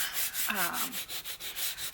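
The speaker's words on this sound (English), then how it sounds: "I'm making a huge mess with the sanding" Rapid, rhythmic scratching of sandpaper rubbed back and forth along paper edges of a hardcover journal, close by and fairly quiet, with a brief squeaky scrape partway through.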